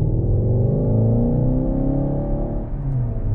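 A synthetic engine hum played inside a Škoda Octavia RS iV rises steadily in pitch like a car accelerating, a smooth droning tone with no talking.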